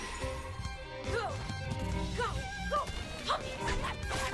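Small puppy-like yips and barks come in short bursts over a game soundtrack from Reverse:1999, with a sudden loud hit at the end.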